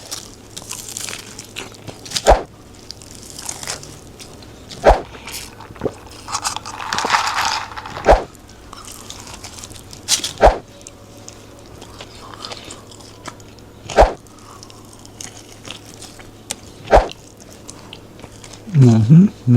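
French fries eaten with ketchup during a mukbang, sharp crunchy bites spaced every few seconds amid soft chewing and mouth sounds, close up, with faint talk near the end.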